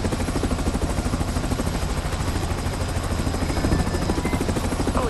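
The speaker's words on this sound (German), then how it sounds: "Ein Heli holt euch gleich ab." A helicopter's rotor in Splinter Cell: Blacklist chops steadily with a loud, continuous thumping drone that never lets up, close and unbroken throughout.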